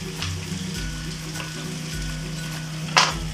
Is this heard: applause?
no